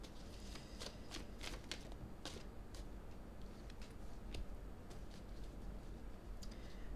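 A deck of cards being shuffled and cut during a tarot-style reading, with a steady papery rustle and repeated crisp riffling flicks running throughout at a soft, close level, no talk.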